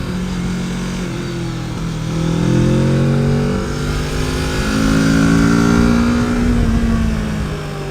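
A Kawasaki Z650 motorcycle with its stock exhaust runs nearby, the engine note rising and falling through two swells of revving, loud and steady with no talk.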